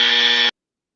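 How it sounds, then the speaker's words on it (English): A game-show style buzzer sounds once, a loud steady electronic drone lasting about half a second and cutting off abruptly into silence. "I'm going to have to give you a buzzer"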